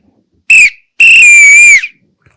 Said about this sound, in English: I know what your hiking whistle's for